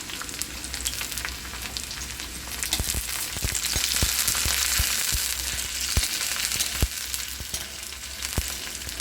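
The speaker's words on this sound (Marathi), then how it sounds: "कांदा भाजलेला ते यामध्ये आपण मिरची ॲड करूया" Green chillies sizzle as they are added to fried onions in a pan, a steady close-up crackle with sharp pops and spits scattered through, no voices.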